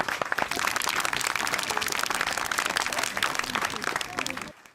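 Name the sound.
audience applause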